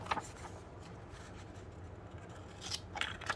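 Victorinox multi-tool scissors cutting through paper, giving soft papery snips and rustles at close range, with a cluster of sharper cuts toward the end.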